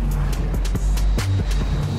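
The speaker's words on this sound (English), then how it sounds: "this 3-liter engine feels quite enough for such a big body, so I cannot call it slow" A 3-liter engine drives an Audi Q8 SUV, a loud continuous low rumble with road noise and a few thumps and shifts in tone, heard without any talking.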